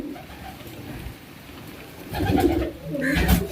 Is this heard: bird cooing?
yes